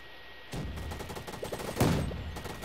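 Rapid bursts of gunfire in the Roblox game Gunfight Arena, a fast rattling volley that starts abruptly and swells louder near the end, with no voices over it.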